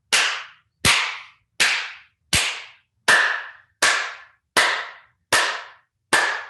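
Nine loud, sharp hand claps ring out close and evenly spaced, roughly one every three quarters of a second, each snapping clean and decaying quickly into silence.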